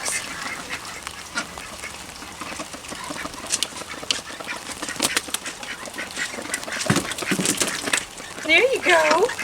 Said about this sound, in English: Come on, duck, ducks.